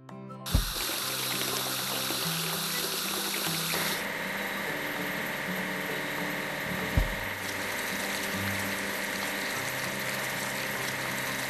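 Water runs and splashes steadily over a toy LEGO grader, a continuous close hiss with a couple of sharp knocks, the tone shifting partway through, no voices.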